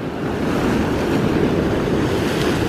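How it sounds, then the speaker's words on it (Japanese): Large ocean waves of about three to four meters, with a swell running, roar continuously and loudly close by, with wind noise buffeting the microphone throughout. "3、4メートルぐらい波あるだろう。"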